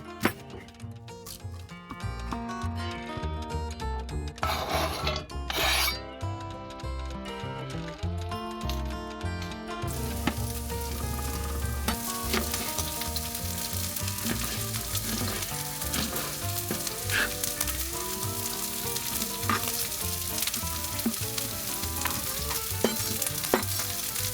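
Leftover grilled flat steak for tacos fries and sizzles in a pan. A steady crackle builds and grows louder after the first few seconds, with light stirring and clatter and no talk.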